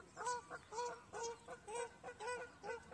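Geese at a lake honk in a steady series of nasal calls, about a dozen in quick succession, moderately close with a faint outdoor background.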